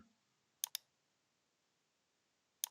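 Sharp mouse clicks in a quiet room: a quick double click early, then another pair near the end, crisp and close with near silence between.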